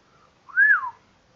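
A single person's whistle, one clear rising-then-falling note of under a second, fairly near and alone against quiet, as someone sits up in a Sherlock Holmes audiobook scene about a stolen diamond.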